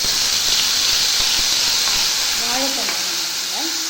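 Loud, continuous sizzling and hissing of chopped banana stem frying in hot oil, with a few faint clinks and squeaky tones near the end.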